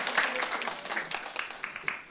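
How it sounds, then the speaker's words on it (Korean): A church youth group at a Sunday service gives a short round of applause, scattered hand claps of moderate volume that rise and fade over a couple of seconds. "우리 박수 한번 쳐주자"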